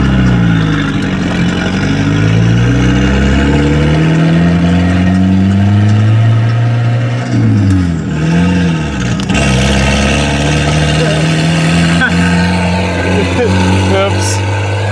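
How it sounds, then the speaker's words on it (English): Volvo 240 Turbo with a freshly swapped manual gearbox revving through repeated rises and falls, a loud close engine tone climbing and dropping with brief dips, steady and continuous throughout. "That turbo sounds great."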